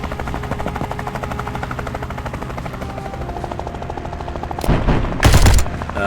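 A bomb goes off in the video game Tactical Breach Wizards, a loud, broad burst of blast noise that rises near the end over a steady, dense bed of game sound.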